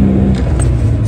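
Heavily loaded truck climbing a hill in second gear, its engine labouring with a loud, steady close-up rumble and strained whir throughout, no talk over it.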